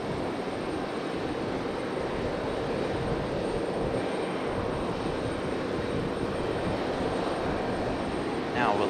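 An Icelandair airliner passes at Raleigh Durham airport, a steady broadband jet roar held at an even level for several seconds, with a faint rising whine near the end.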